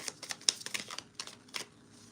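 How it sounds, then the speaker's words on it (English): A tarot deck is shuffled by hand, a quick run of crisp card riffles and flicks, close and fairly quiet, pausing briefly near the end. "I just shuffled. Knight of Wands is at the bottom of the deck."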